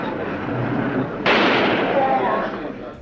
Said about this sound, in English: He's been shot. Lee Oswald has been shot